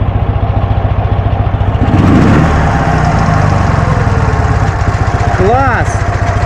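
A Dnepr MT11 motorcycle engine runs loud and close, a throbbing idle that swells as the revs rise midway before settling again, with someone talking over it.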